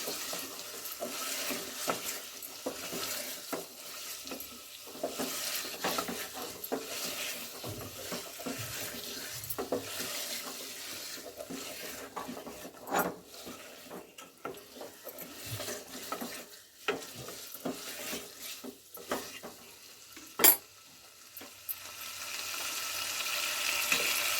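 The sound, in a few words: sautéing chicken with meat masala in a pan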